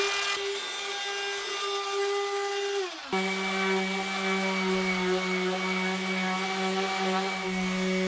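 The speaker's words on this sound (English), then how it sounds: "This grey paint that I'm sanding off" A power sander grinds grey high-build epoxy fairing paint off a boat surface with a steady motor whine that dips briefly, then runs on evenly and close.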